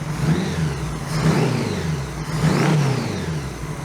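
A 1982 Honda GL1100 Goldwing motorcycle engine fitted with a single carb conversion, running close by and rising in three throttle blips over a steady idle rumble.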